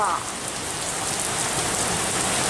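Heavy rain pours steadily onto surfaces at night in Sardinia, a dense, loud, unbroken hiss that holds throughout with no talk over it.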